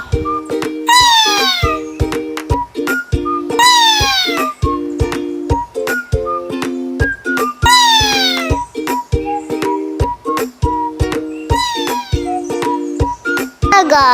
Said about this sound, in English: In the garden, cats are playing.